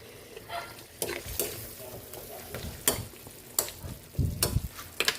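Sliced chayote and carrots stir-fried for chop suey, a spatula scraping and clattering against the pan in several sharp strokes over a soft continuous sizzle, close by, no talking.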